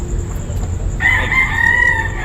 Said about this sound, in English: And there's also roosters.